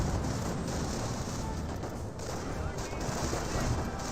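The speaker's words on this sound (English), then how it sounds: "at least just try to gun down the Panzer Grenadier" Dense, continuous gunfire from the World War II strategy game Company of Heroes, a loud, sustained wash of overlapping shots and bursts with no clear gaps.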